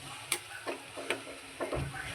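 A spoon scrapes and knocks through a thick pav bhaji mash of vegetables, ground spice paste and chopped coriander over a low flame, quiet irregular strokes roughly every half second against a faint sizzle.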